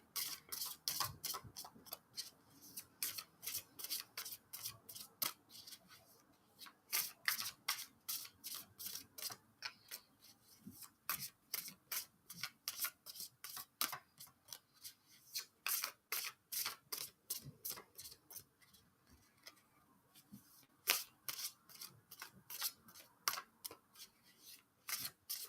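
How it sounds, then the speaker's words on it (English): A thin Wise Cat Tarot deck shuffled overhand, producing continuous quick clicking and slapping of card edges in a steady rhythm, close and soft, with no voice. "So I'm going to go ahead and shuffle up."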